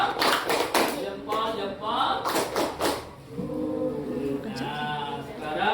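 A classroom group does a rhythmic thumbs clap, several quick bursts of claps in the first three seconds, followed by a teacher speaking over quieter room noise.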